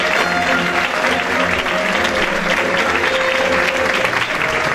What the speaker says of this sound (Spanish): recibamos con un fuerte aplauso a Juan José Aliaga y Juani Pamís